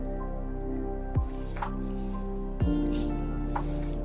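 Masala for chicken curry being stirred and mixed in a pan: soft, wet squishing and scraping from a spoon, with two sharper scrapes close up over a low steady hum, and no talking.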